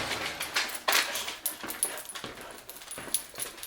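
A dog whines and whimpers from inside a kennel during an at-home training session, in intermittent high, thin cries with short gaps, fairly close, amid some faint rattling.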